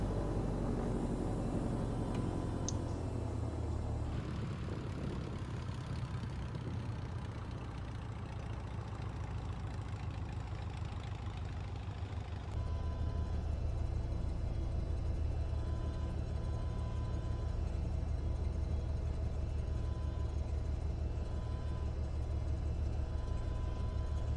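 Simulated propeller engine of a Piper Turbo Arrow III on the ground, a steady low droning rumble that steps up into a louder, fuller roar partway through as power increases, with no voices.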